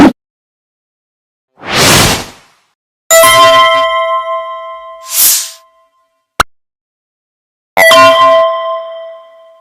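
A bell struck twice, each strike a bright metallic ring that decays over a few seconds. Soft airy whooshes and a sharp click fill the gaps between the strikes.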